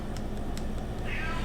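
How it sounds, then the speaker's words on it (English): A house cat in a kitchen gives a couple of short, fairly soft meows, heard slightly off in the background over a low room hum. "my cat is running around in the kitchen in the background"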